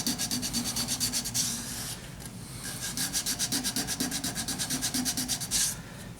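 A wooden triangular box being sanded by hand, with steady back-and-forth rubbing strokes in a quick, even rhythm, close and fairly quiet, broken by a short pause midway.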